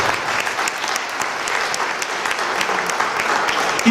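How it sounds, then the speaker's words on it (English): Audience applause at a tenth anniversary celebration, a full, sustained round of clapping from a large room, fairly close and even throughout. "Please give him a round of applause, please."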